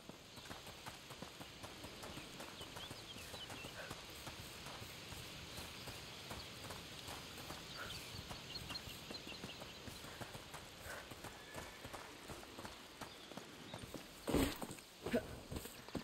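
Horse hooves clip-clop in A Plague Tale: Requiem, a steady, quiet walking rhythm of hoofbeats that continues throughout, with a louder bump near the end.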